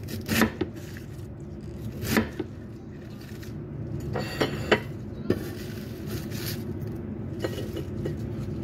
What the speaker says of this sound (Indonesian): Di sini saya potong agak kasar seperti ini teman-teman.